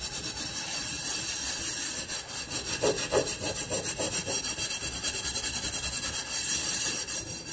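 Steady back-and-forth rubbing or scrubbing by hand during household cleaning, a continuous rasping friction sound with rhythmic strokes, close and fairly loud, no voices.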